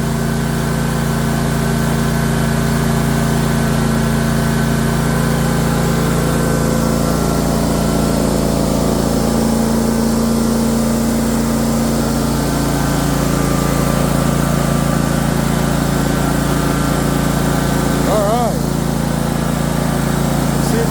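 A John Deere GX255 lawn tractor engine idles after repair, running close and loud with a steady, even drone for about twenty seconds and no stalling or sputtering.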